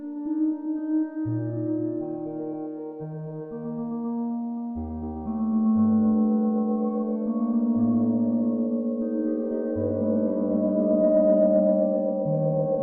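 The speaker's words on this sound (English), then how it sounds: "we're starting to get some lovely feedback there" Sustained, wavering electronic tones layer and swell into a droning, self-oscillating feedback from a GSi Echo B2 echo unit emulating a Binson Echorec, steady and fairly loud, with no talking.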